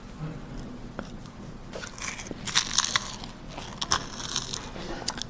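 Someone eating a Homerun Ball snack, with crisp crunching bites that come in short irregular bursts close to the mic over a quiet background.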